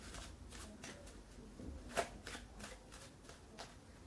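Playing cards are shuffled during a close-up divination magic trick, a run of soft riffling flutters at close range with one sharper snap midway, and no voice over them.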